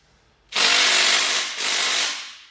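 A DeWalt power tool whirs loudly on tight bolts of a 347 Ford engine from a Fox Body Mustang, two close bursts, the first longer, a brief dip between, then the second trails off.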